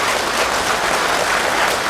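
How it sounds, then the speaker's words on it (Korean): An audience at a district office talk show applauds warmly to welcome the district head, a steady, dense wash of clapping with no break. "여러분 뜨거운 박수로 환영을 먼저 좀 해주시면 고맙겠습니다."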